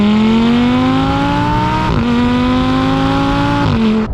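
A 2014 Audi R8's 5.2-litre naturally aspirated V10, shared with the Lamborghini Gallardo, revs hard and loud. Its pitch climbs steadily, dips at a shift near the two-second mark, then climbs again before a second shift.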